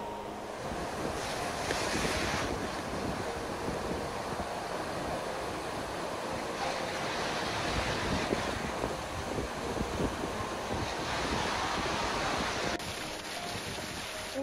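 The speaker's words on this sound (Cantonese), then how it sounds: "呢個係一個迷你瀑布，少少嘅流水一路咁流落嚟" A small waterfall on the Oirase stream in Japan gives a steady, broadband rush of falling water, continuous and fairly loud, with wind noise mixed in and no talking.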